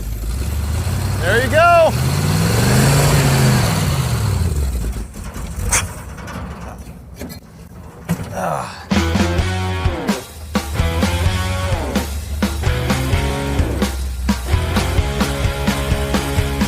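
A 1970 Dodge Challenger muscle car's engine runs and revs, with a rising and falling rev early on, then a steady idle under loud voices and talk.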